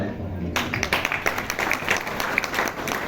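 Applause from an audience at a political rally, a dense steady clatter of many hands swelling in after a brief pause and continuing throughout.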